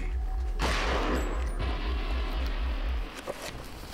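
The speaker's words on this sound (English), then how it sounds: "Big meaty gunshot sounds." Big, meaty shotgun blasts from the horror video game Eternal Darkness boom out as a loud, dense volley with heavy low-end punch for about three seconds, then cut off abruptly into quieter game ambience.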